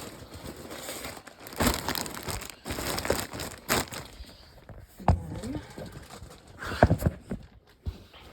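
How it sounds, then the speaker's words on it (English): Plastic bags of yarn from a knitting stash crinkle and rustle in irregular bursts, handled up close with quiet gaps between the crackly handling. "We're almost done with the crinkling."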